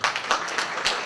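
Applause from an audience at a school gala evening at a lycée, steady clapping from many hands with faint rhythmic surges, moderately distant.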